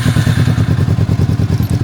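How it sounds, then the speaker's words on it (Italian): A touring motorcycle engine fires and settles into a steady, loud, close thumping idle with a quick even pulse and some clatter, alone without talk. "la metto in moto e vediamo se si mette in moto al primo colpo"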